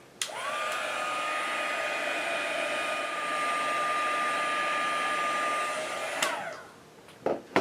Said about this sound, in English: we're going to heat from underneath